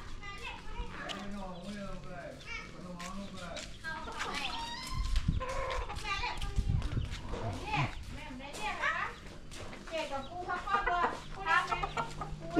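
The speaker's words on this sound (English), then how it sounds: "there's a chicken in there" Chickens cluck and squawk repeatedly at a Buddhist temple in Mae Hong Son, fairly close by, mixed with people talking and children's voices nearby.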